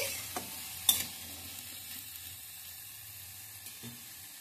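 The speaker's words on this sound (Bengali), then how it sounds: "এবার দিয়ে দিচ্ছি স্বাদ মতো নুন, তো কষিয়ে নেব" Potatoes sauté with salt in a pan, a faint, low sizzle running underneath, broken by a few scattered scrapes and taps of a spoon stirring.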